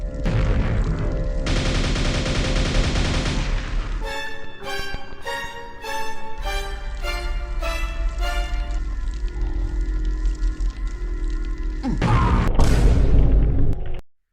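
Homing projectiles fired by the spider-like Vore in the video game Quake explode in a string of sharp bursts, followed by a rumbling tone and a final loud blast.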